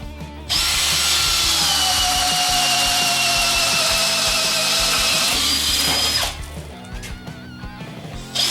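A Makita XPH07 18V LXT brushless hammer drill bores through a 2x board in one long loud whine of about six seconds, then quieter clattering and handling noise follow.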